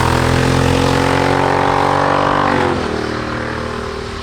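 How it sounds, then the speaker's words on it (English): A Triumph Speed Twin motorcycle fitted with Akrapovic slip-on exhausts, a Motone X-Pipe and a DNK tune rumbles loudly and steadily up close, then its engine note drops and fades away near the end. "The Akrapovic slip-ons and the Motone X-Pipe with a DNK tune."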